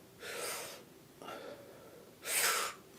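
Sharp, forced inhalations done the wrong way while demonstrating breathing for singing, three audible breathy gasps in a row with the last one loudest and harshest, close and alone with no talking.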